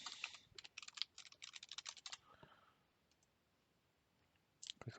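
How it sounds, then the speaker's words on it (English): Fingers tap out a password on a computer keyboard in quick bursts of crisp clicks, pause for a couple of seconds of near silence, then resume with a few more keystrokes. "I'm going to type in the password."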